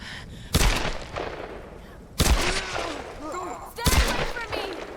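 Gunfire in Tomb Raider Definitive Edition: three sharp, loud shots spaced about a second and a half apart, each with a decaying tail, mixed with breathy gasps and chirping game effects.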